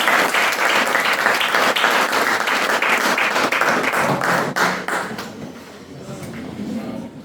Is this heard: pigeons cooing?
no